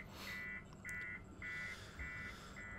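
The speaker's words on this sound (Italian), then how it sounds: "Allarme, batteria scarica." Low battery alarm in the video game Alien Isolation, a steady series of five evenly spaced electronic beeps, moderately quiet and alone with no speech.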